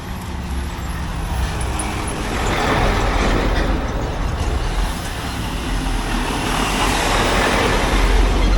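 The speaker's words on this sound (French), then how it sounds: "il y a des poids lourds partout qui passent" Heavy trucks pass close by on a small road, a loud, continuous engine rumble and roar that swells as each vehicle goes past, with no talking.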